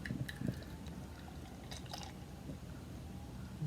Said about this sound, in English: Okay, it pours out very nicely.